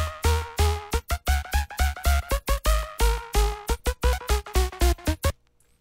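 Fuzzy synth polybass from Serum with SerumFX EQ trimming the low stereo sub, playing loud rhythmic chord stabs with a thick low end, choppy gaps between notes and a brief quiet tail at the close.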